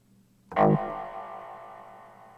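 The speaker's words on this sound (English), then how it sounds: "And here I created some metallic sounding reverb." A single bright metallic hit, processed with a Valhalla Room reverb in a melodic techno production, blooms into a long shimmering reverb tail that rings on and slowly fades, with no voices present.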